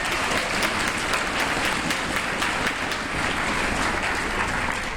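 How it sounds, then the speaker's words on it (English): A school audience at a winter concert breaks into loud, sustained applause for a teacher marking a 30th year of teaching, a dense wash of clapping that stays even from start to finish. "that deserves an applause"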